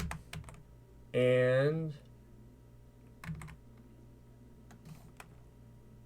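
Someone types a command on a computer keyboard while configuring a Cisco ASA firewall: scattered, crisp key clicks at close range, with someone speaking briefly partway through.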